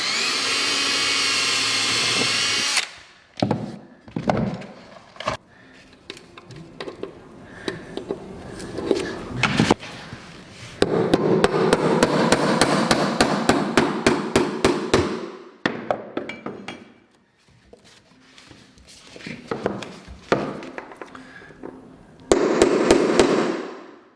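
Repeated sharp metal-on-wood hammer strikes on a pry bar while setting hardwood floor strips, coming in fast bursts of loud, close knocks with a few pauses between groups and no talk.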